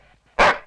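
A single sharp, loud dog bark, close and abrupt, breaking through a quiet background with faint murmur beforehand.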